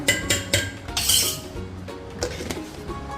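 A spoon clinks and scrapes against a bowl while a salad with cashews and milk powder is stirred together, giving a run of light, close taps and clatters with short pauses between them.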